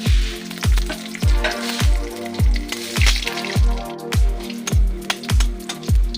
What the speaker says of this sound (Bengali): কড়াইতে আমি দেবো তেজপাতা, শুকনো লঙ্কা আর পাঁচফোড়ন দিয়ে তেলে দেবো